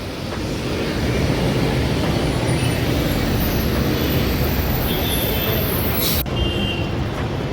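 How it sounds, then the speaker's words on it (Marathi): A bus rolls along a road on a trip from Mumbai to the Konkan, its engine and tyre noise a loud, continuous rumble close by for several seconds before cutting off abruptly near the end. "गाडी आले आहे बघा"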